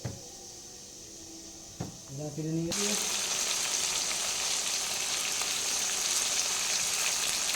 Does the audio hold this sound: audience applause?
no